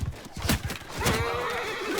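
Horse in Mount & Blade II Bannerlord gives a loud, close whinny rising into a shrill neigh, with hoof clops and battle noise beneath.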